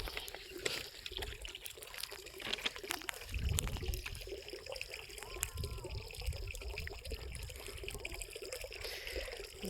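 Irrigation water flowing onto a wheat field, a soft continuous gurgle and trickle with a brief heavier low rush, steady and fairly faint outdoors with no talk.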